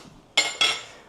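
A metal spatula clinks twice against a hot griddle as onions go on for a Philly cheesesteak, two quick bright scrapes about a quarter second apart with a short fading hiss, close and without talk.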